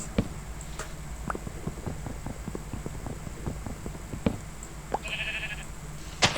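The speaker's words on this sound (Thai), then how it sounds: "ตอนนี้แกะร้องนะครับมีแกะอยู่ข้างๆนะครับ" A sheep bleats nearby in the Minecraft video game, one short nasal cry over a steady bed of game ambience and a patter of light clicking footsteps.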